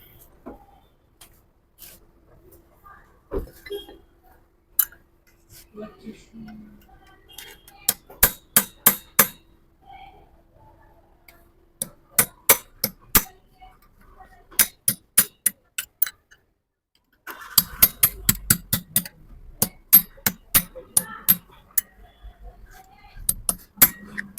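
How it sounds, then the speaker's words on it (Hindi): A clutch part is hammered tight during a clutch service. Sharp metallic blows come in quick bursts of several strikes, with pauses between the bursts, and grow busier toward the end. "आज अभी ठोक ठोक के इसको पूरा टाइट कर देंगे।"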